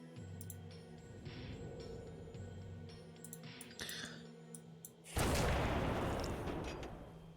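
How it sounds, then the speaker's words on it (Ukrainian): Sharp gunshot cracks from the Roblox game Doors scattered over a low droning background, followed by a sudden loud burst of dense, sustained firing. "Щось все стріляє."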